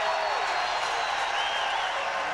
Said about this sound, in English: The crowd is back in the game,